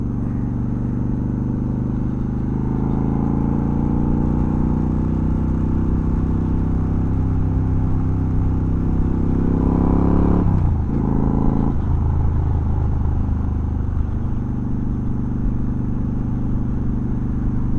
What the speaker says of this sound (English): Traffic right now.